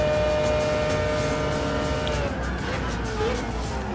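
Mazda 787B race car engine in Gran Turismo Sport, a steady high-pitched rotary drone holding a sustained whine with slight pitch shifts, continuous and loud throughout under faint background talk.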